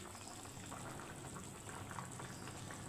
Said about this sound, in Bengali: আমার ঝোলটা ফুটে উঠেছে